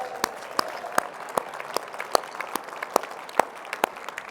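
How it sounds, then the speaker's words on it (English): Guests at an awards gala reception applaud, heard as a sparse, fairly quiet patter of distinct claps at a steady rhythm, with only a few people clapping and no voices over them. "Another round of applause for those folks,"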